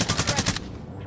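Rapid automatic gunfire from a PPSh in a video game rattles off in a quick burst of about six shots, then cuts out, leaving a fainter background hum.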